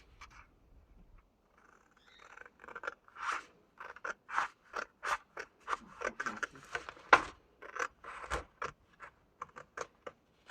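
Scissors cut along the fold of a 30x30 paper sheet in a rapid series of crisp, close snips, growing steadier and louder toward the end, with no talking.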